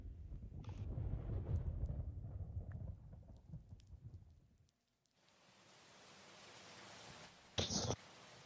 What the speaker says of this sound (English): The little cloud child is making it rain.